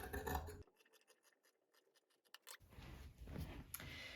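Sewing scissors snip along a fabric edge to trim it straight, a run of crisp, close cutting clicks in quick succession, framed by louder handling rustle before and after.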